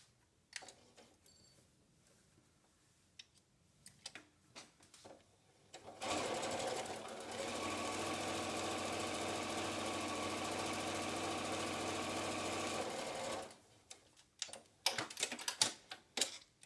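A domestic sewing machine chain-pieces fabric pieces for N95 mask covers, running in one steady, loud whirring burst of about seven seconds, with quieter handling clicks and taps on either side.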